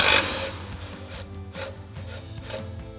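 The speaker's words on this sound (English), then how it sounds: "we're gonna use our 17 millimeter socket and 15 millimeter wrench to go ahead and get these out" A 17 mm socket and a 15 mm wrench work the lower control arm bolts on a 2019-2023 Silverado 1500 during a coil-over install, giving a quick run of rhythmic metallic clicks and scrapes at close range.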